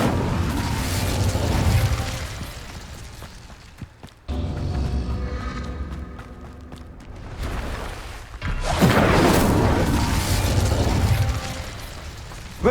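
Incendio fire spell cast in Hogwarts Legacy, with two loud fiery bursts that flare and crackle, separated by a quieter stretch of mechanical clanking and game ambience.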